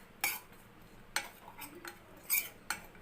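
Ragi flour is dry-roasted and stirred in a pan: quiet, with a handful of distinct metallic clinks and scrapes of a spoon against the pan at irregular intervals.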